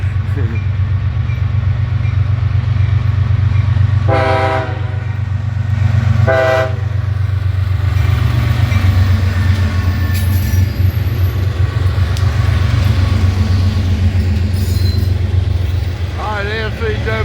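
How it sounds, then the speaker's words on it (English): An NCWS coal train rolls through Abbeville during a train meet, a steady loud low rumble of wagons throughout with two short horn blasts midway and a higher squeal near the end, with people talking nearby. "Alright, NCWS coal train."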